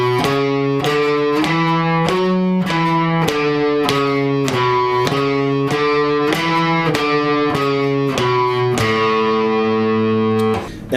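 Distorted electric guitar playing a simple, slow lead line of single picked notes that climb and fall, ending on a sustained A, close and loud without talking.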